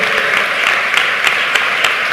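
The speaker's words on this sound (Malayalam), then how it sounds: "പൂർണ്ണ ബലത്തോടെ വക്കോളം കൈയടിച്ച് സ്തുതിക്കാവുന്നവരെല്ലാം കൈയടിച്ച് സ്തുതിച്ച്" Church congregation at a Malayalam Christian service clapping their hands in praise, a dense, loud, continuous applause with faint rhythmic accents.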